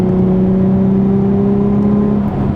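A Nissan Z car engine with an Invidia Gemini cat-back exhaust and Berk Tech high-flow cats hums steadily at a low idle-like drone with strong tonal harmonics, loud and close, heard from inside the car, no talking.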